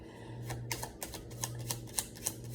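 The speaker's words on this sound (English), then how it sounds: "Can you guys see these cards flipping out here?" Tarot cards flip and shuffle close by, giving a run of crisp, papery snaps and clicks that repeat roughly every quarter to half second, with no talking.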